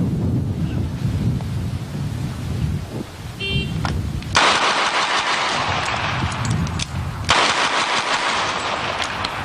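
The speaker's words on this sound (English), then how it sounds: "We'll shoot that target on the left again. Target on the left, 12 shots." Rapid string of twelve gunshots fired at a target at a shooting range, a dense fast burst of loud cracks heard from nearby, with ringing echoes between volleys.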